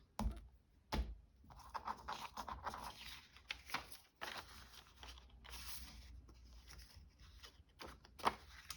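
Paper being cut for a handmade journal, with close, quiet scissor snips and rustling scrapes in uneven bursts, plus a few sharp clicks.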